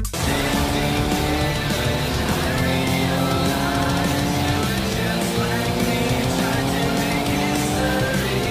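A motorcycle in a video game revs and races continuously, its engine whine loud and steady, with tire squeals mixed in throughout.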